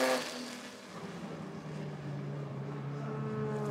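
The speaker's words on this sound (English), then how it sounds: "How fabulous is this, seeing two D-types racing wheel-to-wheel around Le Mans?" Two Jaguar D-type race cars running wheel-to-wheel at the Le Mans Classic, a steady loud engine drone that rises gradually as they push on, heard without talk.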